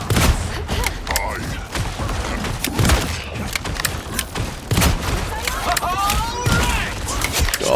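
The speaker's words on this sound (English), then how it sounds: "God, stop shooting me, Moon Knight." Rapid bursts of gunfire from Moon Knight in a shooter video game, with repeated sharp shots and booms in dense clusters throughout, under loud excited talk from a player.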